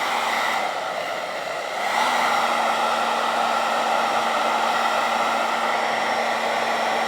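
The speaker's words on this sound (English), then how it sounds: "So here's a hairdryer." A hair dryer set to high heat blows a steady, loud broadband whoosh with a faint motor whine, its pitch and force rising slightly about two seconds in and then holding constant, with no voices.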